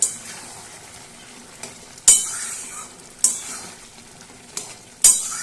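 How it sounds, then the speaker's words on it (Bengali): Vegetarian Bengali curry simmering after raw mustard oil is added, a soft steady bubbling sizzle broken by a few sharp metallic clinks and scrapes as a spoon stirs the pan. "এভাবে করে আর মিনিট দুয়েক ফুটিয়ে একটু নাড়াচাড়া করে"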